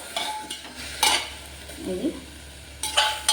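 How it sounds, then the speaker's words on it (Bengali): Chicken soup ingredients stirred gently in a pan, with a few scraping and clinking utensil strokes against the metal and a faint sizzle between them. "দিয়ে এটাকে হালকা হাতে একটু নাড়াচাড়া করে"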